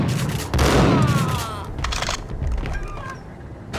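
Gunfire in the Max Payne video game, a loud close burst of shots at the start that rings out and fades into scattered echoing reports.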